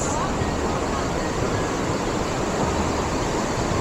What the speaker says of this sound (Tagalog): I think we're in the waterfalls.